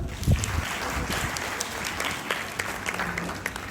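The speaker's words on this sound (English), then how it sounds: "First of all, clap for yourself." Steady applause from an audience at an eye donation awareness program at a college of education, a dense continuous wash of clapping hands filling the room with no pauses.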